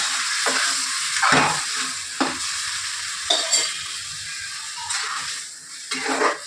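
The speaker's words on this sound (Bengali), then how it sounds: "ডালটা ঢেলে দিই।" Boiled red lentils tipped into a hot pan for a Bengali chorchori, with bursts of sizzling, wet sloshing and stirring in uneven strokes, close and fairly loud.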